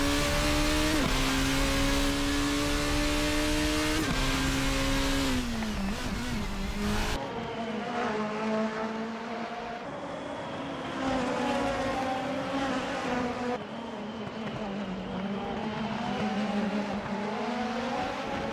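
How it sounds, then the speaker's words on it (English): Formula race cars in a Formula Hololive racing video game at the Autopolis circuit, their engines whining and shifting pitch as they rev and accelerate, loud and continuous throughout, with the tone changing abruptly partway through. "Especially as Miguel Castro and Yukikaze Kai finally reeling into the number 5 Nekomata Kayu car."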